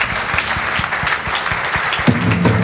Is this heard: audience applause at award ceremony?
yes